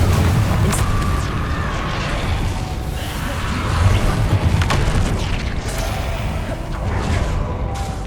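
Confringo fire-blast spell in Hogwarts Legacy, heavy booming blasts and rumbling whooshes in a dense, continuous wall of battle noise.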